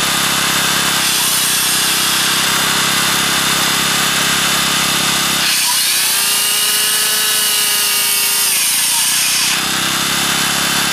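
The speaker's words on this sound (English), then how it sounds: "That's a pretty good size power tool" A generator fed by a wood stove drones steadily and loudly. A good-sized power tool plugged into it starts, whines for about four seconds as the engine bogs under the load, then cuts out.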